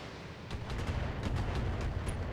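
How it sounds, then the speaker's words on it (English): Indirect artillery fire from a vehicle in the mech combat game BATTLETECH: a dense, rumbling barrage of overlapping booms and crackling impacts that runs steadily throughout, with no talking. "indirect fire from the vehicle, no big deal"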